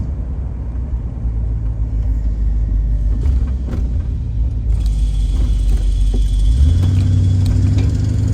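Fully restored 1968 Chevrolet Camaro driving on a road, heard from inside: a loud, steady engine rumble with road noise, rising as the car accelerates toward the end, no one speaking.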